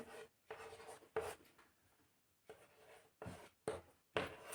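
Pen or marker strokes writing out a Hindi meaning during a children's Arabic lesson, heard as several short scratchy bursts separated by pauses, close and fairly faint.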